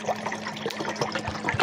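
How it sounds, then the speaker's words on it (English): Water poured into a cat's bowl, a short splashing trickle lasting under two seconds, close by, with a faint steady hum behind it. "I gotta give Kiwi pour her some water real quick"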